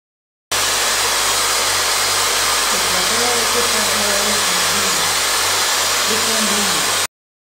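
A blow dryer fitted with a diffuser runs steadily on curly hair, a loud continuous broadband whoosh with a low motor hum that shifts slightly in pitch as it moves, alone without talk.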